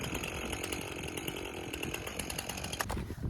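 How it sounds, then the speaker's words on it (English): A chainsaw runs steadily at high revs, cutting the tops off posts during a home foundation build, a loud continuous buzzing drone that dips briefly near the end. "it's time to get these top ones off with a chainsaw"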